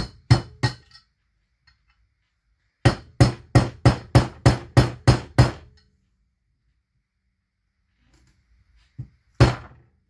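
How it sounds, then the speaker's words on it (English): Sharp rubber mallet blows on a McCulloch Model 73 chainsaw part during a rebuild: two quick hits, a pause, then a steady run of about ten evenly spaced strikes, and later a couple more after a long silence. "We got this good rubber mallet here, so we'll see what we can do here."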